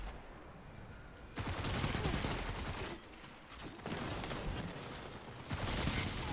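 Submachine gun fire in the mech shooter Titanfall comes in several loud sustained bursts separated by short quieter gaps, with faint game background between volleys.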